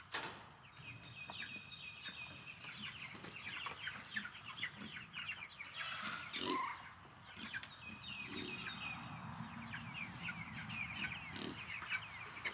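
Chickens cluck and call steadily inside a movable chicken tractor on grass, a busy flock at close to moderate range with intermittent louder squawks over a low outdoor background.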